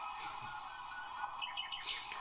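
Birds chirp in a steady stream of bright tweets under louder background music, with no one talking.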